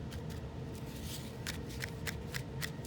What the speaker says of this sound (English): I'm going to take my paper towel, okay, I'm going to scrunch it up